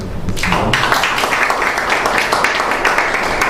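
A seminar audience breaks into applause, a sudden burst of many hands clapping that starts after a brief pause and continues steadily, fairly loud and close.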